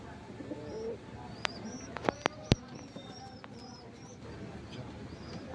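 Pigeons coo softly in a loft, with a few sharp clicks and faint chirps over a low background hum.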